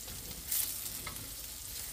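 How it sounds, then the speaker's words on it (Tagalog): Onions sauté in a pan for chicken lumpianada with a continuous close sizzle and a brief louder crackle partway through. "gisa-gisa ko lang yung sibuyas para lumabas yung aroma"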